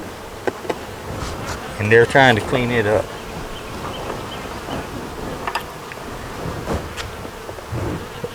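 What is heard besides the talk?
honey bees buzzing on a hive frame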